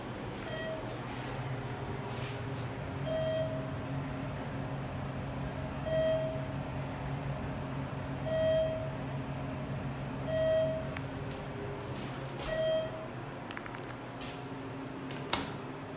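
A Thyssenkrupp Synergy machine-room-less elevator in a tall building sounds a single-tone beep every couple of seconds, six short chimes over a low, constant hum of background noise.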